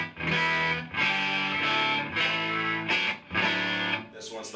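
An electric guitar with single-coil pickups plays through a 7-watt Pony Express White Unicorn tube amp with two 6V6 tubes in push-pull, gain turned up and bright switch on, ringing out as a series of loud, gritty strummed chords with short breaks between them.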